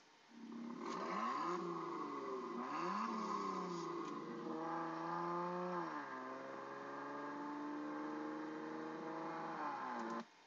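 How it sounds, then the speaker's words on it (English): Maserati Ghibli Trofeo engine sound played back from a website, a throaty rev that blips twice then climbs and settles into a steady growl, heard alone and fairly clear. "Let's see if we can click this and listen to the engine."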